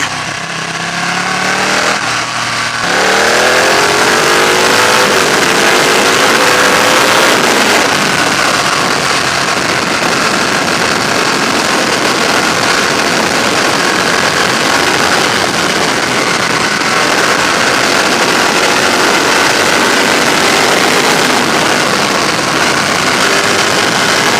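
Ducati Panigale 1299 S motorcycle engine on a fast ride over a bumpy road with dodgy surfaces, a loud, sustained roar that rises in pitch through the opening seconds and then holds steady under heavy wind rush.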